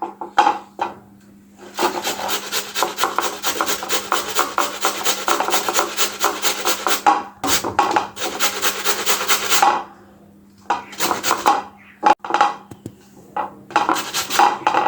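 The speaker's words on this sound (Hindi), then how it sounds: "तो अभी हम इसको कद्दूकस इस तरीके से करेंगे" Ash gourd (paitha) with a tough rind is pressed against a grater in repeated rasping strokes, each burst lasting a few seconds and separated by short pauses, close and fairly loud.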